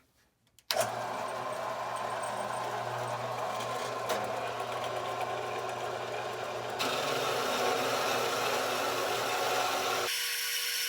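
A loud, steady power tool whines continuously for about ten seconds while cutting off metal in a Volvo 1800ES wheel well during rust repair, its pitch shifting partway through, then cuts off abruptly.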